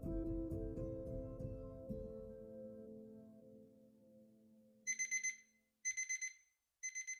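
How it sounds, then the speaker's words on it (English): An alarm clock beeping in loud rapid bursts of four pulses, repeating after short gaps, following a fading low musical tone. "after Laura had gone to the movies with Dan, she woke up to the loud beep of her alarm clock"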